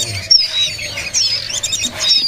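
A young kedasi bird at a bird market stall gives thin, high chirps and short whistled notes in quick bursts, close and fairly loud, with faint stall noise beneath.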